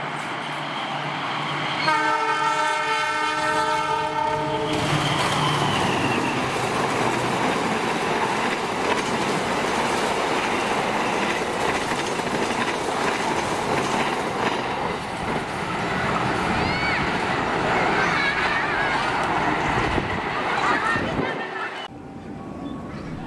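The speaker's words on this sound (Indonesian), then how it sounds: "kereta api Argo Bromo Anggrek 1" An Argo Bromo Anggrek 1 passenger train rolls past close by in Indonesia, a sustained loud roar with a long multi-tone horn blast at the start and rail clatter continuing throughout.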